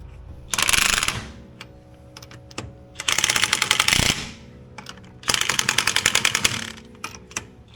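A ratchet clicks in three quick bursts while tightening fresh chrome lug nuts onto a wheel on a Dodge Ramcharger, close and sharp, with short pauses between the bursts.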